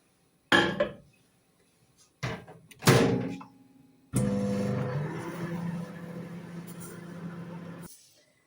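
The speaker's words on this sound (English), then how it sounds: "And there goes in the microwave." Sharp knocks of a bowl of soup being set into a microwave and the door shutting, followed by the steady hum of the oven running close by.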